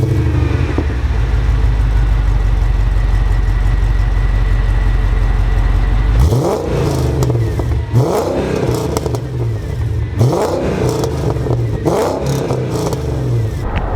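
A Mercedes E55 AMG supercharged V8 exhaust idles with a deep, steady rumble, then is revved in several sharp blips that rise and fall, loud and close, with no voices.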